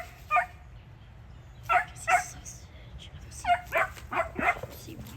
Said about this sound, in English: Okay, he's barking.